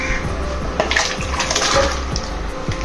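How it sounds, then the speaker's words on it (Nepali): Large cut potato pieces, headed for fries, are dropped into a bowl of water to soak, giving close watery splashing and sloshing with a few distinct plops over steady background noise. "अब हामी यो आलुलाई एकछिन यही पानीमा भिजाइदिउँ।"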